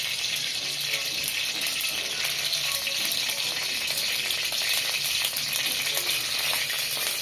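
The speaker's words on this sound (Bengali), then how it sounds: "আমরা দেখুন কিভাবে ছিটকিছে তেল।" Chicken pieces with salt and turmeric frying in hot oil, a loud, continuous close-up sizzle with spattering crackles throughout.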